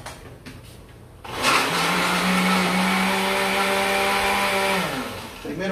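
A blender purees tomatoes and onion for pineapple salsa, starting with a click and then a loud, steady motor whine that holds for several seconds before winding down, with no talking over it.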